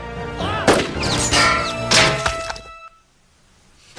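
A single gunshot rings out in a film scene, a sharp loud crack with reverberant crashing debris, over dense rumbling action sound, then abrupt near-silence.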